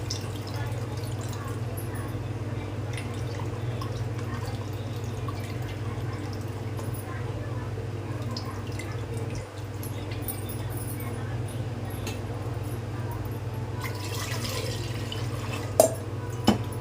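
Tamarind juice poured into soft-cooked lentils for sambar, a steady liquid trickle and drip over a constant low kitchen hum, with a couple of small knocks near the end.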